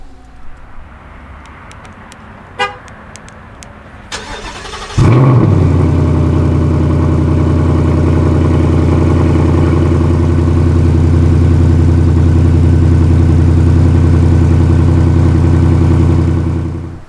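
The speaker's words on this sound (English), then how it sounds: "You'll also find remote start on models equipped with the automatic transmission." A 2018 Ford Mustang GT V8 engine fires up by remote start after a few faint clicks, catching with a sharp burst and then settling into a loud, steady, deep idle rumble that continues to the end.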